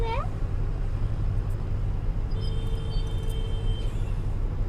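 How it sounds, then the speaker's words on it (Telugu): Road traffic rumbles steadily, with engines idling and passing close by and a brief hiss of air brakes, under continuous nearby chatter. "అరే ఇంత ట్రాఫిక్ అయింది మరి"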